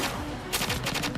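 Gunfire in an anime shootout scene: a burst of rapid, loud shots in quick succession, growing denser in the second half, with no talk over it.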